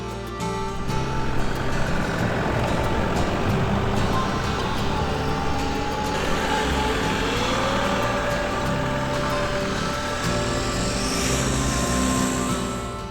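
A Toyota Hilux on off-road tires drives through fresh mountain snow, its engine a steady, fairly loud drone with a rising tone near the end, heard from inside the vehicle.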